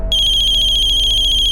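A loud electronic phone ringtone trills continuously in a rapid warbling pulse, close and clear with no voices, as a ransom call comes in during a TV crime drama.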